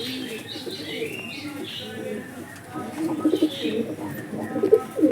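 A flock of Giribaz pigeons that has come down low from flight coos in soft, rolling murmurs nearby, with the calls growing denser and louder over the last few seconds.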